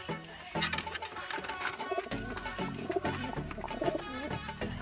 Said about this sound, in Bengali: এত হারে ডাকছে পায়রাটা